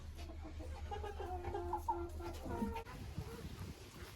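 A Ukrainian hen clucks softly in short, broken calls over a low background hum, fairly close and quiet.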